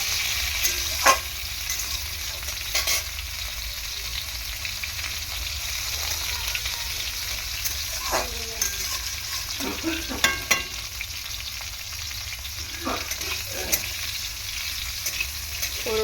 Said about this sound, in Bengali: শুকনো লঙ্কা ফোড়ন দিয়েছি।